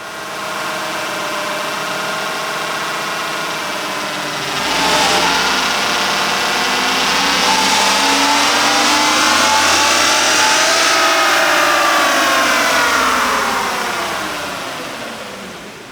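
A Chevrolet Silverado pickup's engine revs up on a dyno, climbing steadily through a long, loud pull with a raspy exhaust tone before easing back down. No voices are heard.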